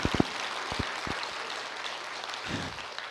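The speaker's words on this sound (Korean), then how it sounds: "박수." A hall audience at a Q&A talk claps briefly, a soft, fairly distant patter of applause that tapers off after a few seconds, with a few louder low thumps near the start.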